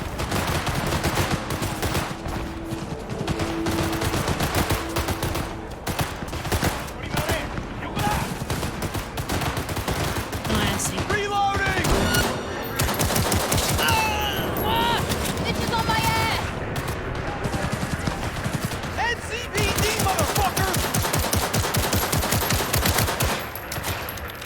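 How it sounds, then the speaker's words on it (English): Sustained gunfire from a shootout in the game Cyberpunk 2077, dense rattling volleys and repeated shots continuing throughout, with a player talking over the din. "Who are they shooting?"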